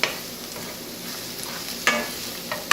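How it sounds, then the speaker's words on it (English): Two chopped garlic cloves sautéing briefly in oil before Brussels sprouts go in, a soft steady sizzle close by with a few sharp stirring scrapes near the start and end, no voices. "So we're going to let this saute just very,"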